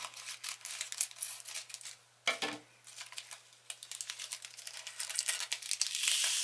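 Scissors snip across the tops of small plastic diamond painting bead packets at close range, with crinkly, rustling plastic noises in quick, uneven bursts and a short pause partway through.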